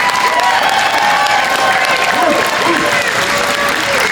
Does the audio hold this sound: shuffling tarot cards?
no